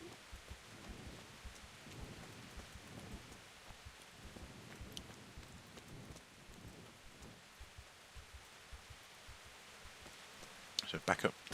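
Steady rain falls with low rumbles of thunder in a stormy town scene in the video game Kingdom Come: Deliverance, faint and continuous, with a voice talking quietly over it.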